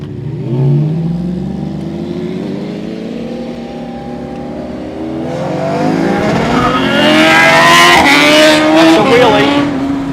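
A car engine revs hard during a wheelie on a Brisbane street. The engine climbs steadily in pitch and loudness, close by, and grows louder and rougher toward the end.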